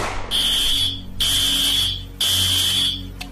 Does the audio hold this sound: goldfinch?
no